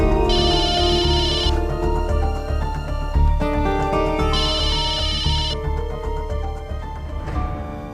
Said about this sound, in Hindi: फोन उठाओ डेनिस